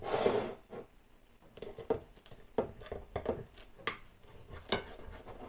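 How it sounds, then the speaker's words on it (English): Knife or cutter slicing air-fried cheesy tortilla wraps into quarters on a plate, a series of short crisp cuts and utensil clinks scattered over a few seconds, close-up with no talk. "Let's give it a chop up into quarters."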